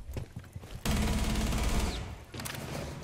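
Rapid burst of automatic gunfire in a video game, a dense run of shots lasting about a second, heard up close over faint background game noise.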